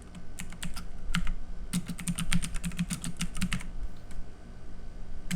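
Rapid clusters of keystrokes clatter on a computer keyboard as a command is typed, close and crisp, with short pauses between bursts and a low steady hum underneath.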